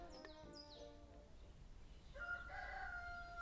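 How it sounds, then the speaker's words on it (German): Roosters crow on farms surrounding Brașov in the Carpathians at dawn, one distant call at the start followed by a louder, drawn-out crow, both over a quiet rural background. "wenn die Hähne auf den umliegenden Höfen dem neuen Tag entgegenkrähen"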